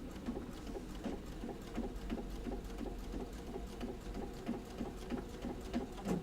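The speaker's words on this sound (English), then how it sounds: "I'm just going to sew a 1/4 inch almost all the way around" A sewing machine stitching a quarter-inch seam around fabric: a quiet, rapid, steady mechanical patter of needle strokes running continuously, faint and alone with no talking.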